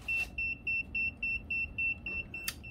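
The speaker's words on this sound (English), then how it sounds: "I don't know why it's beeping." An ERICKHILL EMF radiation detector sounds a rapid string of short, sharp electronic beeps at an even pace, about a dozen in quick succession, loud and close.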